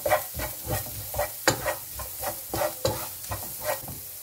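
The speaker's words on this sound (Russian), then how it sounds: "Быстренько все это обжариваем." Vegetables sizzle in a hot pan while a utensil stirs and scrapes in a quick, regular rhythm, each stroke bringing a fresh crackle.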